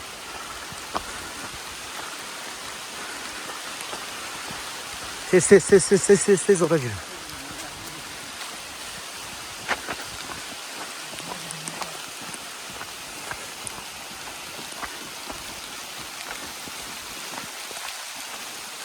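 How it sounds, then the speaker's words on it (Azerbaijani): Heavy rain falls through a forest in a soft, continuous hiss with scattered drops, while a voice calls out briefly partway through. "Böyle bir güçlü yağış başladı."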